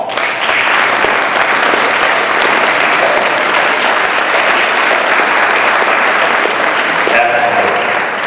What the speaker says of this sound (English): a final well-deserved round of applause